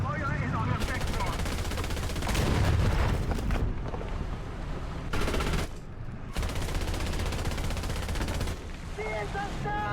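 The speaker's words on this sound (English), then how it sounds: "Artillerieschlag auf Koordinaten Delta 4" An artillery strike pounding a target in War Thunder, with loud repeated booms and crackling blasts in rapid bursts separated by short lulls, dense rumbling filling most of the stretch.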